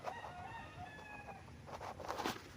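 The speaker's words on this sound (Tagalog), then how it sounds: "nakatali yung mga manok" Chickens tied up on a farm in Pagsanjan, Laguna, with a faint rooster crow and some clucking over a quiet outdoor background.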